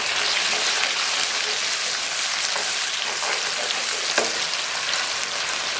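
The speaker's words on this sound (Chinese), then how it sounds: "咱们把葱香蒜末给它在里边， 简单给它煸炒一下" Scallion and minced garlic sizzle with pork belly in a hot pan, a dense, constant frying hiss with faint stirring scrapes, no talk.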